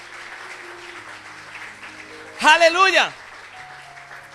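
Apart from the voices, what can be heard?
congregation giving loud applause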